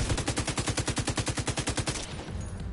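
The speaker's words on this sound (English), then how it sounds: "I got a minigun up top, so... Yeah, I'm gonna try to take him out first." A video game minigun fires one rapid, even burst of closely spaced shots that runs loud and close for about two seconds and then cuts off, leaving a short fading tail with no talking.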